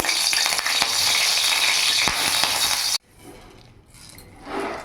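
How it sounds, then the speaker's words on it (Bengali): Whole garam masala spices, cinnamon, cloves and cardamom, crackle in hot oil in a kadai, a loud dense sizzle that cuts off abruptly, followed by a quieter, softer frying hiss that swells slightly toward the end. "তেলের মধ্যে এখানে ফোড়নে দিয়ে দেবো গরম মশলা, দারচিনি, লবঙ্গ, এলাচ দিয়ে দিলাম"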